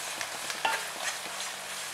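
Onions and garlic frying with a pinch of rock salt, a steady close sizzle with small scrapes of stirring underneath.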